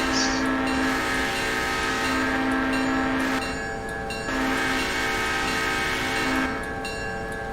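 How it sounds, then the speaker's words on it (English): Freight train rolling steadily past, a continuous loud rumble with sustained horn-like tonal hum and mechanical wheel noise, briefly easing and swelling again. "I take it the rear of my train is rolling by your office now?"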